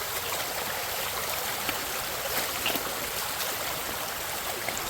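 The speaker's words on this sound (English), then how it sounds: "River's over there." Cold mountain river rushing below a meadow, a steady broadband roar of flowing water, close and constant with no voices.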